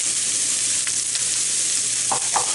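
Onions, garlic and ginger fry in a pan on turned-down heat for shrimp curry, giving a steady, close sizzle throughout with a couple of brief stirring scrapes near the end.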